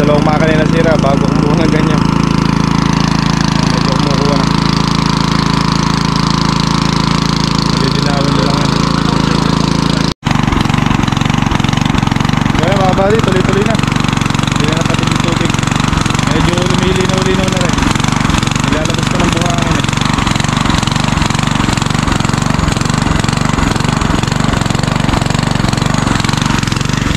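A motor engine drones steadily on a farm during a deep-well installation, loud and close, with a rhythmic chugging pulse and mechanical clatter; voices talk over it now and then.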